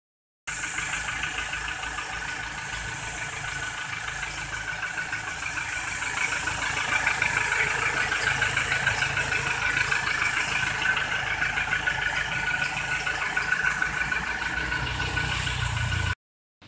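An engine with a cracked number-two cylinder block idles while pushing out heavy exhaust, giving a loud, steady, continuous rumble with rough vibration and a faint knocking texture throughout, with no voices.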